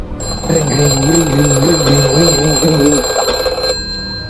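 A telephone rings with an early-morning call, its warbling electronic tone repeating in steady bursts, loud and close, with no voices over it.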